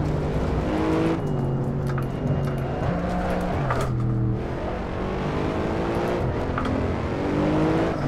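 Race car engine in Assetto Corsa revving loudly and continuously, pitch climbing and dropping through gear changes, with brief tire squeal, close and dominant throughout, no talk.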